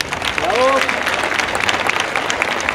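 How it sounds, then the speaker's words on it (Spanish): Audience at a travellers' meetup at the Fitur tourism fair applauding for a guest, a crowd clapping with a brief voice or whistle-like tone rising over it near the start. "Un aplauso para Miguel."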